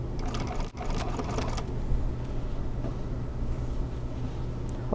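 Sewing machine stitching a boxed cushion with cording, a steady fast mechanical whir with rapid needle clatter at the start, then a continuous lower hum, fairly close and alone.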